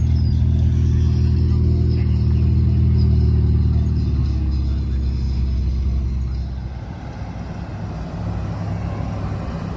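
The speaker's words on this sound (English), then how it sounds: "we've got a stunning Pista just rolling in" A Ferrari Pista supercar rolls in at the Bicester Scramble car meet at Bicester Heritage. Its deep, loud engine rumble stays close and steady, then eases and fades into the background crowd noise.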